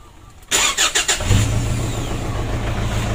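A car engine cranks for about half a second, then catches and settles into a steady low idle. It is close and fairly loud, with no talk over it.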